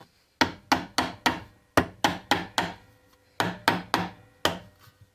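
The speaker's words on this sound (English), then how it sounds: "You are going to be hammering more down than you are." A steel vambrace is hammered against a vise, sharp metallic blows in quick bursts of three or four with short pauses between, each strike ringing briefly and close by, with no talk.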